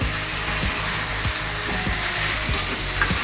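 Mutton pieces with spices sizzle steadily in a pan, with regular scraping stirs about every third of a second, close and continuous without any talk.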